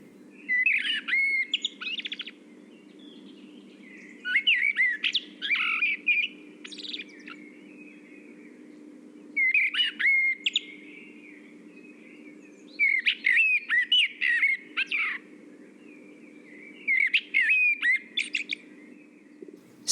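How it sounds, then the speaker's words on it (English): A blackbird sings in a forest, sending out clear, varied phrases again and again with short pauses between them over a steady low hum of background ambience. "The blackbird flies down and lands nearby and begins its song again."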